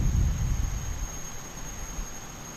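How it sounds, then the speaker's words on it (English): Jet engine noise from aircraft departing in the background of a Boeing 737-8 walk-around, a steady broadband roar with a high whine on top, louder at first and then settling. "I can see some aircraft in the background departing. Hear some noise"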